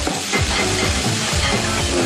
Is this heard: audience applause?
no